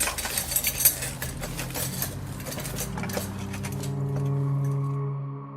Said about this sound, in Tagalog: ibinaba na lang ang ginagamit niyang kubyertos sa mesa bago siya tumayo at inilimpit ang sarili niyang pinagkainan